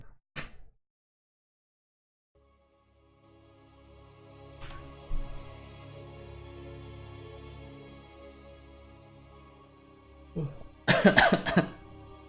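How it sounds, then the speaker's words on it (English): A few sharp coughs near the mic, one early, one in the middle, then a loud cluster of rough coughs near the end over a low steady hum. "I've had the same cough for the last like 3 weeks."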